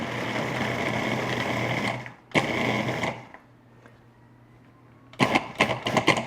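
A food processor pulses garlic and onions in short motor bursts: a long whirring run, a brief stop, a second burst, then a few quick choppy pulses after a quiet gap.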